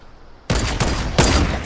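Rapid bursts of gunfire from players in a Fortnite squad match, loud and close, two or three clustered volleys following a quiet moment, with no talk.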